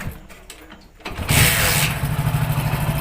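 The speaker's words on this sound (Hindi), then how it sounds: "अभी पहले मैं आपको बाइक स्टार्ट कर देता हूँ इसका" A Hero Passion Pro motorcycle engine starts after about a second of quiet clicks and handling noise, catching with a burst and settling into a steady, close, throbbing idle.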